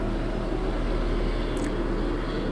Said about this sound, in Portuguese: está passando um helicóptero